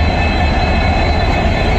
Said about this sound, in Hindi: ये देखिए गाड़ी आ रही है इसके साथ आज का 19226 Jammu Tawi Jodhpur express arriving Bikaner railway station.